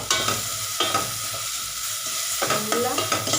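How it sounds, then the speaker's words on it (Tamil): Sambar powder is stirred into sautéed fenugreek leaf curry in a pan, with a steady loud sizzle under repeated scraping spoon strokes, a few sharper clanks marking the stirring, all close up. "நல்லா கிண்டி விட்டுடலாம்."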